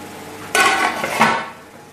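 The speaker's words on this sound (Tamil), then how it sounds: "ஒரு பிளேட் போட்டு மூடிடலாங்க" A metal plate set down over a pot of layered fish biryani topped with raisins, cashews and garam masala, giving a clattering metallic clink that rings briefly, then a second smaller knock.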